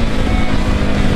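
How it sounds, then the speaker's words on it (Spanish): A loud motorcycle exhaust drones as a steady, close, engine roar with a low hum, heard alone without talk. "No sé qué tan bien me escuchen, porque ese escape está matón."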